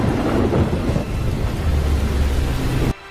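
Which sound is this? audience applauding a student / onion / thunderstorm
thunderstorm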